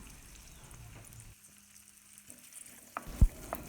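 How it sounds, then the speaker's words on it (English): Onions added to hot oil in a frying pan, a quiet steady sizzle broken by a brief lull and then a sharp clatter of the pan or utensil near the end. "Then add your onions."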